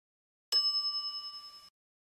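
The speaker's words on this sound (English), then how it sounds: "some idiot's already ringing that stupid bell" A single ding of a service counter bell in the pirate adventure game The Secret of Monkey Island, a clear bright strike that rings on steadily and cuts off abruptly after about a second, alone in silence.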